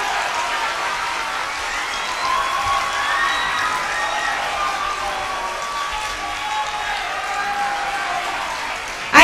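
An audience at a junior high school wind band concert claps and cheers in a sustained wash of applause, with whoops and shouting children throughout.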